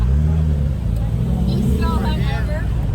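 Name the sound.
cars driving into a cars and coffee meet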